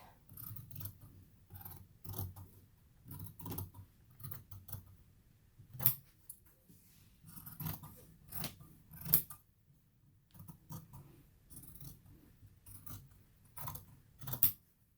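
Repeated crisp scissor snips cutting fabric for a face mask, close and steady, in short rhythmic bursts with brief pauses between.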